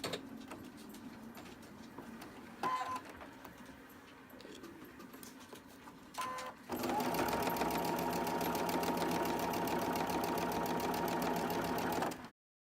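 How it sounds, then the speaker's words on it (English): A sewing machine stitches flying geese quilt pieces, starting with two short bursts and then running steadily and loudly for about six seconds before stopping. "So now we're just going to sew them."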